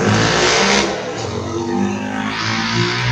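A go-kart fitted with a motorcycle engine revs loudly and steadily at close range, its pitch dipping and rising again, with no talking.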